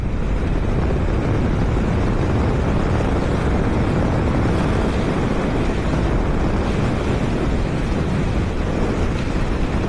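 A steady, loud roar of a Yamaha MT-07 motorcycle engine accelerating in fifth gear, with rushing wind noise, constant throughout with no pauses.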